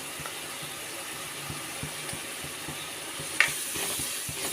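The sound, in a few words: sautéing fish curry masala with coriander powder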